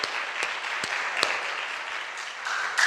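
A church congregation breaks into applause for Jesus during a Portuguese-language service, a dense steady patter of many hands with a few sharper louder claps standing out, under a faint murmur of voices.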